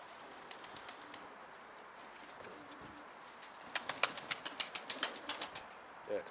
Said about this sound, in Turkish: 100 tane kanat çırpıyorsun gittiğin bir metre